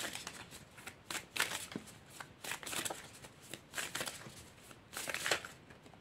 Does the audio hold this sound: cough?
no